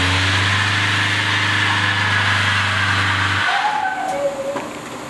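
Engines roar loudly outside a shop during burnouts, a steady droning rev that cuts off abruptly after about three and a half seconds, leaving quieter rumble and squealing tones.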